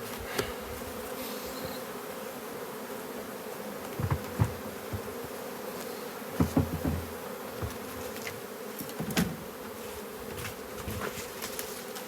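Honey bees hum in a dense, steady drone around a hive, with occasional louder passes of individual bees close by.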